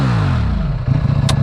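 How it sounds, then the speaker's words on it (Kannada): A 2023 Ducati Panigale V4 S with its V4 engine revving hard, a loud close roar that sweeps through a falling pitch then settles into a rough, pulsing idle burble. "ಸಕ್ಕದಾಗಿದೆ ಕೇಳೋದಕ್ಕೆ ಆ V4 ಸಿಂಫನಿ."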